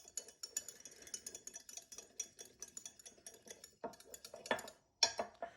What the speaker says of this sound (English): I have a little mini whisk here that I'm going to use to go ahead and stir this together